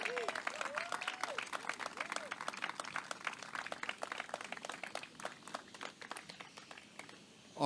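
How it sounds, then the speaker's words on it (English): Scattered clapping from a modest audience at a Rotary event, a run of individual claps at moderate distance, with a voice rising briefly over it near the start. "please give them a round of applause."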